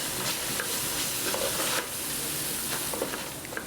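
Spices and seasonings for homestyle masala chicken fry over gentle heat in a pan, a continuous close sizzle with scraping stirs running throughout.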